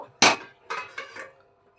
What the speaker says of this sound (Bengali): এবারে আমরা ঢাকাটা সরিয়ে দেখে নেব